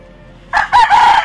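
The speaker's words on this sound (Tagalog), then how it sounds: "Pero ang yaman nyo sa manok" A rooster crows loudly and close at a rural Philippine homestead in a coconut grove, the call rising in two or three strong bursts after a quiet start, with faint chickens in the background.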